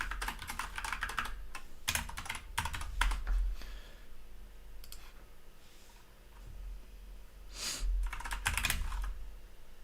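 Typing on a computer keyboard while coding a JavaScript command-line app: steady close clatter of key presses in bursts, with a few louder clustered strikes and no speech.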